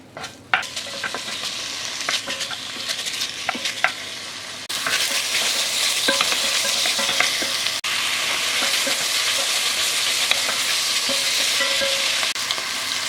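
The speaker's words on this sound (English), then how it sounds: "We're going to cook it for a few minutes to render some of the fat out" Pork fries in a pan as its fat renders, producing a loud, continuous crackling sizzle that grows fuller partway through, with occasional utensil knocks and scrapes.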